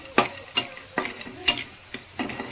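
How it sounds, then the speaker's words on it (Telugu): Cashews and almonds roast together in a dry pan for rava laddu, giving soft rhythmic scraping clicks about every half second as they are stirred, fairly quiet and close. "కాజు బాదం ఇవి రెండు అయితే మిక్స్ చేసి రోస్ట్ చేస్తున్నాం"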